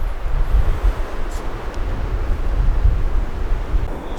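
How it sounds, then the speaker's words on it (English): Loud gusting wind buffeting the microphone on an Oregon coast trail hike near a lighthouse above Hobbit Beach, a continuous low rumbling roar with no voices. "I can hear the wind picking up"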